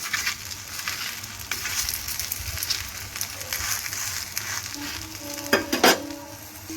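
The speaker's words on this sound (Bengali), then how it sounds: "দেখো, দু পিঠি আমার লাল লাল করে একটু ভাজা হয়ে গেছে" A semolina and sour curd chila fries in mustard oil with a close, crackling sizzle, broken by spatula scrapes and a short burst of clattering toward the end.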